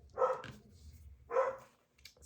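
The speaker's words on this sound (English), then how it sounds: "Okay, now the dogs are barking." Dogs barking indoors, two separate loud woofs about a second apart with a smaller yip at the end, close by and without talk.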